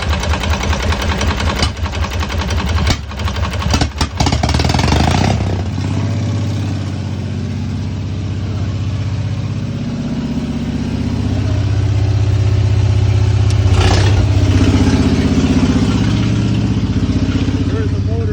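A jury-rigged generator that has been running for hours and is running hot gets restarted: sharp cranking bursts, then the engine settles into a steady loud hum with a brief surge midway.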